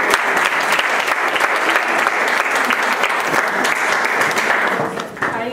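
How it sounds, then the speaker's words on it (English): An audience clapping their hands together, a loud, dense, sustained burst of applause from a crowd in a room, steady for about five seconds before easing slightly at the end. "Everybody get some snaps and some hand claps."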